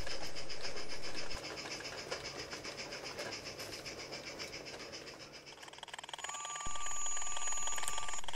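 Steady mechanical rumble and rhythmic clatter of a small model passenger train working hard up a 1-in-40 gradient, with a high squealing ring joining near the end.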